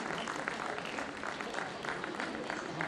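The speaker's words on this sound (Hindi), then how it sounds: "आपकी तालियां बजती रहें" Sustained applause from an auditorium audience at a ceremony honouring theatre artists, a fairly quiet, even wash of clapping with a hint of crowd murmur.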